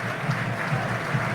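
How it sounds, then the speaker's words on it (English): Football crowd at Edgeley Park applauding a substituted player as he leaves the pitch during a Stockport County versus Bolton Wanderers League One match, a steady distant wash of clapping. "to a round of applause from three sides of Edgeley Park, he departs"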